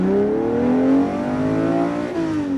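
A 1962 Ferrari 250 GTO with 390 horsepower, the legendary Le Mans runner-up, revs close by with a loud engine note that climbs in pitch, dips briefly and climbs again.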